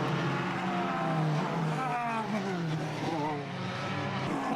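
Formula BOSS single-seater race cars screaming around Mondello circuit in Ireland, engines loud and close with rising and falling pitch as they shift through gears, a commentator talking over the continuous roar.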